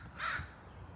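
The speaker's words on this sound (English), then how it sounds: "there goes the crow" A crow caws once from a garden yard in spring, a single short moderately loud call standing alone above faint outdoor background.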